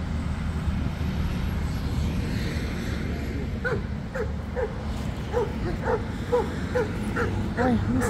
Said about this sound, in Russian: Видите, какие у них большие собаки.